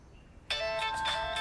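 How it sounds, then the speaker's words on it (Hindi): A phone starts ringing abruptly after a short quiet moment, a bright electronic ringtone pulsing steadily for about a second, fairly loud and close, with no talk over it. "ये उसी का फोन है"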